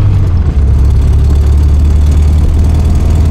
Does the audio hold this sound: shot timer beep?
no